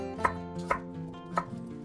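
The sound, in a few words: knife chopping ginger on a cutting board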